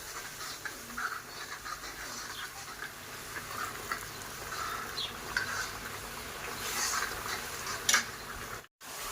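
Masala for spinach curry fries in a pan, a steady crackling sizzle with occasional scrapes of a spoon stirring, close and moderately loud, briefly cut off near the end.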